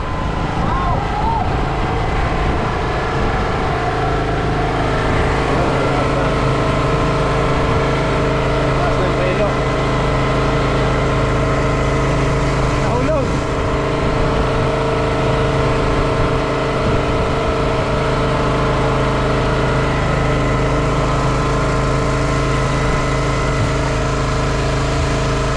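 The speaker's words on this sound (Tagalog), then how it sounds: "Wait lang, maingay makina." A noisy engine drones steadily in a warehouse, loud and constant with a humming, rumbling tone that never lets up, and a voice speaks briefly over it.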